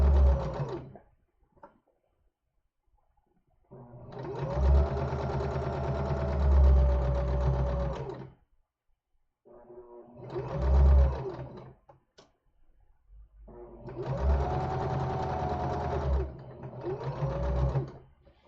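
Sewing machine stitching a collar onto a summer tunic, running in three long loud bursts of steady whirring separated by pauses with faint handling noise.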